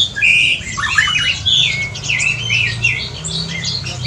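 A white-rumped shama sings loudly and close by in an aviary, pouring out varied whistles, trills and sharp squawky notes in quick succession, with a low hum underneath.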